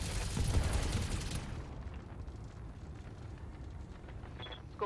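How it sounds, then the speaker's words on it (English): A mech in the Battletech video game lets loose a full weapons salvo, a dense roaring burst of rapid fire for about a second and a half that fades into a rumbling, crackling tail. "Firing a full salvo."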